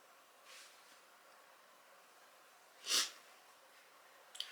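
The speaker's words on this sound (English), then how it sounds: "I hate when you get makeup up your nose and it makes you want to sneeze." A single sharp sneeze set off by makeup powder up the nose, brief and fairly loud over a quiet room hiss.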